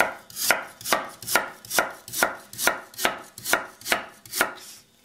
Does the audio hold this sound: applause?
no